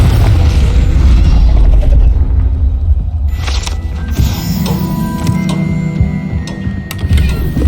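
Confringo fire blast spell cast in the Hogwarts Legacy video game, with a sudden burst partway through that rises out of a dense, steady bed of game noise and mechanical clatter.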